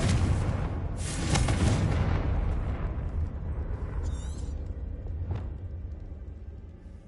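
The Confringo blasting spell erupts in the video game Hogwarts Legacy, a loud, rumbling explosion that swells early, then tails off into crackling debris and scattered smaller pops.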